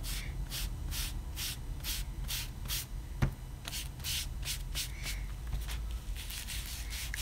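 Distress Oxide ink blended onto paper with a foam applicator, a soft rhythmic swishing and rubbing in quick repeated strokes, close up and fairly quiet, with no one speaking.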